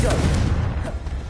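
Fire spell Confringo from Hogwarts Legacy, a single short, loud, fiery blast with a dense low rumble that fills the whole moment, heard up close.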